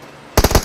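Rapid automatic gunfire in a battle royale video game during an esports match, a loud close burst of several quick shots fired in fast succession.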